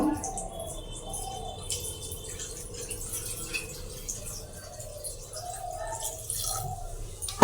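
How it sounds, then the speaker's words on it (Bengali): Water is poured into a cooking pot for rice in a pressure cooker, a soft, steady trickle and splash that stays low and close, without talk. "এবার জল দিয়ে দেবো অল্প বন্ধুরা"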